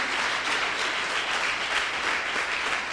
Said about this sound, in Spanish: si le va a dar un aplauso, déselo fuerte a nuestro Dios